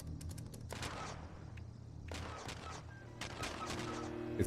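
Rapid bursts of turret fire in the video game Fallout 76, a dense crackling fusillade at moderate level with short pauses between volleys.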